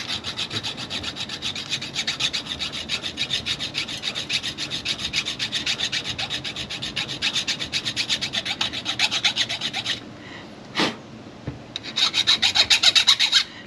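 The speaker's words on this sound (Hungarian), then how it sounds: "hogy itt reszelem itt. Ezt a részét." A hand file rasps across a car brake part in quick, even strokes that keep a steady rhythm. The strokes are close and fairly loud, with a brief pause and a lone stroke near the end before filing picks up again. No one speaks.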